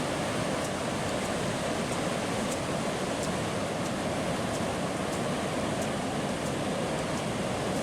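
Ocean surf rolls in steadily on a beach at the Peter Iredale shipwreck on the Oregon coast, a constant broadband wash of waves with faint repeated clicks above it and no voices.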